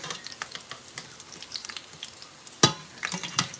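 CHamoru-style lumpia frying in oil in a stainless steel pan over a small burner on high heat: a continuous close crackling sizzle with scattered pops and one sharp loud spatter.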